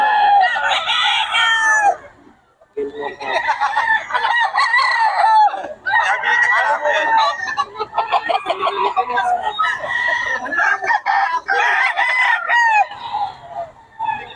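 Gilmore Hatch gamecock roosters crow loudly and repeatedly up close, several long cock-a-doodle-doo calls following one another with brief pauses, a few clucks mixed in.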